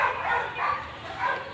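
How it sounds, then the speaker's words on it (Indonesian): A small dog gives a couple of brief, high, yelping barks, close by and moderately loud, over a short stretch. "ini ada anjing kecil"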